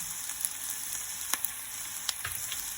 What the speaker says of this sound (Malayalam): 1 സ്പൂൺ ടൊമാറ്റോ പ്യൂരാണ് ആഡ് ചെയ്യുന്നത്